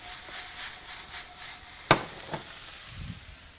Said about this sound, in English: let me stir those zoodles again, because they take very little time to cook up